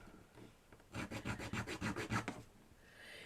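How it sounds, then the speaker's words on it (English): A small metal file rasps across a wooden miniature in a quick run of about ten rhythmic strokes, close and fairly quiet, with stillness before and after. "we're just going to file that off"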